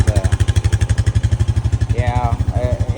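A 2025 Honda Rancher 420 ATV engine runs in a steady, loud low pulsing throb, ridden along a street, with a brief rise in pitch near the end.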